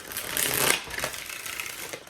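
Tarot cards being shuffled by hand: a quiet, close riffling burst of papery flicks, followed by a few softer shuffling rustles.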